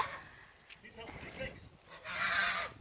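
Geese honking in a noisy farmyard, harsh calls rising to a louder cluster near the end, with other livestock sounds mixed in.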